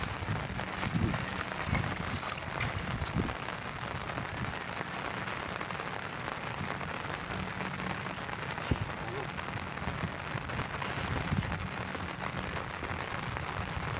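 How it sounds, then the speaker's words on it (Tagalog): Steady rain pattering down during night electric fishing, a dense continuous hiss of drops with occasional louder splashes, heard up close and unbroken for the whole stretch. "Kahit umuulan."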